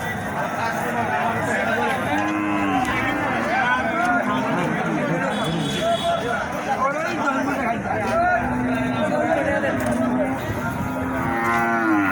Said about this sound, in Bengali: এই গরুগুলো সবগুলো ব্যাপারীর গরু এগুলা কুষ্টিয়া দিনাজপুর নীলফামারি হাট থেকে ব্যাপারীরা নিয়ে আসে